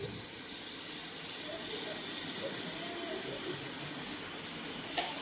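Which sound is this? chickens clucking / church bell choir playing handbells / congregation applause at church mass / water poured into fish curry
water poured into fish curry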